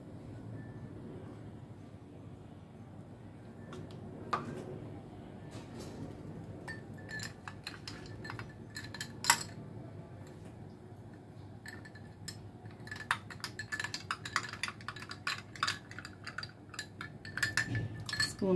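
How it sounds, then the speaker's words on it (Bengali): A metal spoon stirs raw mango sharbat in a glass, giving a long run of light clinks and taps against the glass that grow quicker and busier toward the end, with no talking. "স্পুন দিয়ে খুব ভালো করে গুলে দেবে"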